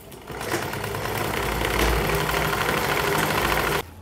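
An electric sewing machine runs steadily while stitching along the folded hem of a suit, a close, continuous mechanical whir for several seconds before stopping abruptly near the end.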